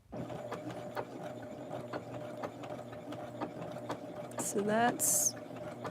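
A sewing machine stitches a doll's retro blouse in fast rhythmic bursts of needle chatter, close and moderately loud, with a short spoken remark and brief sharp squeaks near the end.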